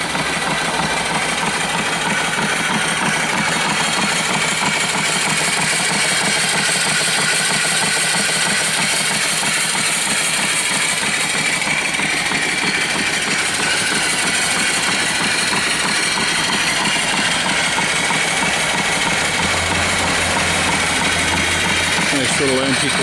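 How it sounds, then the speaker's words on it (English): An antique twin-cylinder steam engine with reverse runs steadily up close. It gives off a continuous dense hiss and fast mechanical rhythm at an even, loud level for the whole stretch. "so it's the engine only, it's not the hoses and not the boiler, of course"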